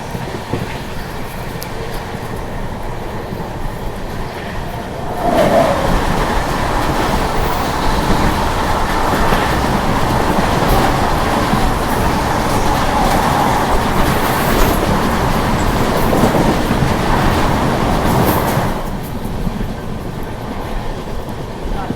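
Purushottam Express running at 130 km/h behind the Mahanagari Express, heard from inside as a loud continuous rumble with rhythmic clickety-clack of wheels, swelling louder mid-stretch before easing back.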